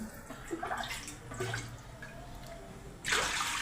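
Water is poured from a bowl into a pot for rice papad dough, several splashy pours separated by pauses, with a louder gushing pour at the end.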